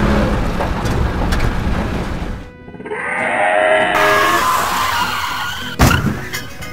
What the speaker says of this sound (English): The wheels are stuck in the mud.